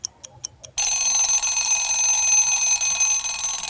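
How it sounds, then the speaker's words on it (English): A few short electronic beeps give way to an alarm clock ringing loudly and continuously at close range, a bright, steady clanging that lasts to the end with no talk. "Every morning when the alarm clock clanged"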